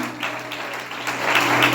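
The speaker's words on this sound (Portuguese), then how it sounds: "E outra salva de palmas também para essa igreja" Applause fills a church congregation, a steady wash of clapping from many hands that holds fairly even throughout and swells slightly toward the end, with no one speaking over it.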